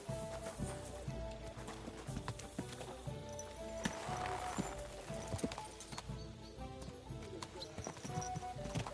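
Horse hooves clip-clopping on a ride in the video game Kingdom Come Deliverance 2, a steady rhythmic trot close by with occasional tack jingles and a brief whinny, under a faint game soundscape.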